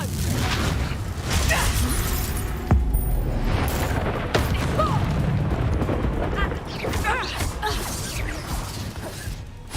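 The Confringo fire-blast spell from Hogwarts Legacy bursting amid spellcasting combat, with booms, whooshes and crashes layered under a loud, busy battle mix, and no one talking.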